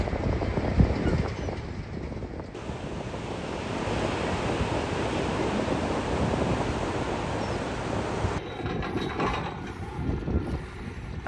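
Ocean surf rolling onto a sandy beach at sunset, a steady broad wash of breaking waves with wind buffeting the microphone, continuous and fairly close with no voices.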